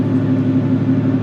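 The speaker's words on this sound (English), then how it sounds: "They have the classic MAN engine sound" A MAN bus engine drones close and loud in a steady, rumbling mid-pitched note for just over a second, working hard as it accelerates.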